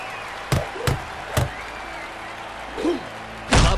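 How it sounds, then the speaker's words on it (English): Heavy punches slamming into a boxer's opponent in Creed: Rise to Glory, heard as several separate thuds spread over a few seconds, fairly close, with a softer swell between them. "Glover slams hard into his opponent"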